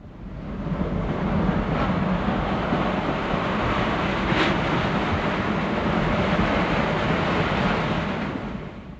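Shay geared steam locomotive number 12 running around its train at Georgetown and crossing back over the trestle upgrade toward Silver Plume, a steady broadband rumble and rushing roar, constant and fairly loud throughout with no talk.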